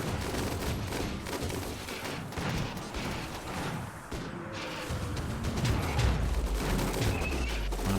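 Dense rapid gunfire from turrets in the video game Rimworld, a continuous crackling fusillade with scattered bangs and booms, steady and moderately loud with no talk over it.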